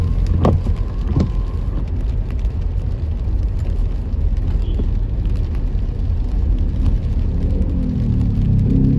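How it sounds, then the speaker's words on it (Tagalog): Heavy rain pours steadily on a car during a drive, a dense broadband hiss held at an even level throughout, with a couple of brief sharp knocks early on and no talk. "Hindi na ambon eh, ulan na eh, oh."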